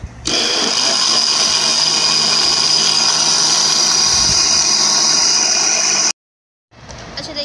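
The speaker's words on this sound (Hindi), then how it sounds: "अब इसको जो है ब्लेंड करेंगे।" A kitchen blender runs steadily at close range, whirring loudly as it blends plum sharbat ingredients with black salt for about six seconds, then cuts off abruptly, leaving brief quiet before faint noise resumes.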